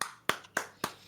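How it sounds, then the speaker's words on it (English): A single person claps four times in a steady, evenly spaced rhythm, each clap sharp and fairly close, with no talking around them. "A solid clap."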